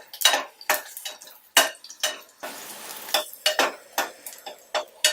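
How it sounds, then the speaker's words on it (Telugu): Garlic fries in a pan for a dal curry, with sharp spatula taps and clinks against the metal at irregular intervals and a short burst of hissing sizzle in the middle. "ఎల్లుల్లిపాయలు కొంచెం టైం పడుతుంది ఎల్లుల్లిపాయలు వేగటానికి."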